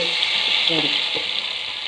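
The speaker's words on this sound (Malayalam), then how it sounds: "ഉള്ളിയും മുളകൊക്കെ മൂത്തു നമുക്ക് കറിക്കകത്തേക്ക് ഒഴിച്ചു കൊടുക്കാം" Hot onion and chilli tempering hisses in a loud, steady sizzle as it is poured into a lentil and tomato sambar, heard up close with no talking.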